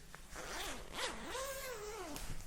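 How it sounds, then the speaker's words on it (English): A jacket zipper pulled in one quick sweeping run, close up and clear, its rasp rising and falling over a steady background hum. "One quick zipper."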